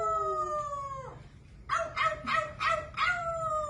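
A pet bird mimics a dog's howl: a long whistled tone, a short pause, then four quick, yelping howl bursts, close and clear with no talking.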